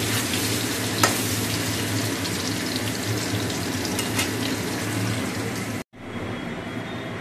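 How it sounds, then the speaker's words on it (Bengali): Paneer pieces sizzle loudly and continuously in hot oil in a pan, close up, with a couple of faint clicks and one brief dropout near the end before the frying noise resumes. No one speaks. "পনিরটা অল্প করে ভেজে তুলে নেবো"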